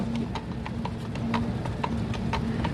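Horse hooves clip-clop in a steady, brisk rhythm on the pavement of Central Park in New York, close by and continuous over a low rumble of street noise.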